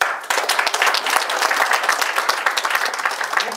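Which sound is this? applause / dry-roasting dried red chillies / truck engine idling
applause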